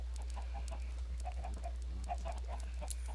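Chickens in a Minecraft game cluck in short, soft, scattered bursts over a steady low electrical hum, fairly faint with no talking.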